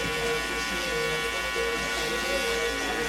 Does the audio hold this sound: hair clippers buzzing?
yes